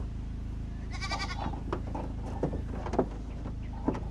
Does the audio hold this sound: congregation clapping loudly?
no